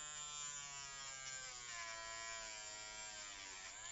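A Nash Pinpoint Hook Doctor electric fishing hook sharpener gives off a steady, close, high-pitched motorized buzz throughout, wavering slightly in pitch as a hook is worked against it, with no talking.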